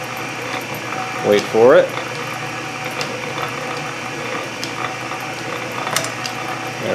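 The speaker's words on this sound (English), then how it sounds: "Gotta wait for the tooth to come around on the gear." Gear teeth on a Canedy-Otto drill press being pushed by hand into mesh, with a brief clunk and scrape as the feed engages under a steady mechanical hum, while someone talks.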